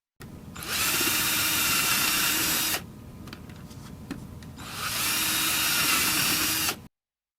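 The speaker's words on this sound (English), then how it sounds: "I'm going to start by drilling my toothpicks out that I put in" A power drill whirs loudly in two long bursts, drilling old toothpicks out of wood, with a pause between them filled by light clicks and handling noise.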